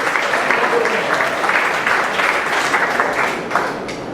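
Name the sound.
applause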